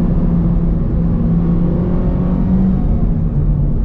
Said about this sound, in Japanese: はい、こんな感じの音になってます。